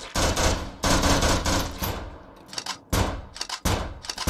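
Rapid bursts of heavy automatic gunfire in a Christmas-themed anime shooter game, loud and dense with brief gaps between volleys, no talking.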